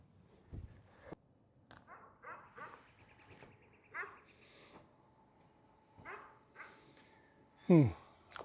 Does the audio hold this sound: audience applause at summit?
no